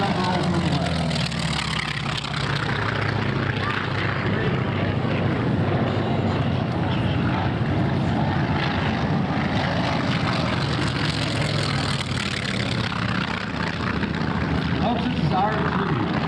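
A small short-takeoff propeller aircraft rolls for takeoff at an airshow at MacDill, its engine a loud, continuous droning roar mixed with wind and crowd noise, while an announcer's voice carries over the top.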